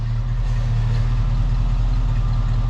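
A 1985 Chevy K10 short-bed pickup with 53k miles idles close by, its engine giving a steady, loud, deep rumble with even low pulsing throughout.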